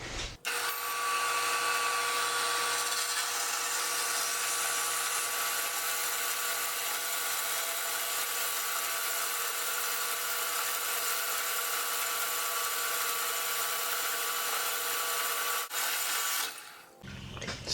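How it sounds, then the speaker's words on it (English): A bandsaw cuts square metal plate spacers in one long, steady, loud whine that runs unbroken for about sixteen seconds, then stops abruptly. "now I'm going to use the bandsaw to square up the pieces"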